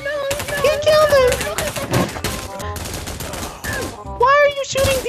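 Rapid gunshots ring out in the Pavlov shooter game, dense repeated bursts layered under frantic, shouting voices that talk over much of the action.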